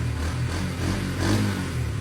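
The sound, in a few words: Yamaha Enticer motorcycle engine sound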